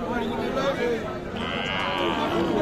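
Young heifer calves at a busy cattle market low amid steady crowd chatter, with people talking nearby throughout.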